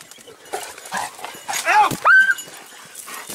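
A dog barks and whimpers amid shouting men during a spring brown bear hunt, with a couple of sharp yelps rising loud and close over tense talk.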